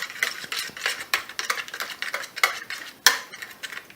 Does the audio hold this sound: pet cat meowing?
no